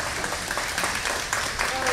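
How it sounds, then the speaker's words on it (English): A crowd at a junior livestock show applauds exhibitors, a steady, moderately loud patter of clapping throughout a short burst. "Let's give both those kids a nice round of applause."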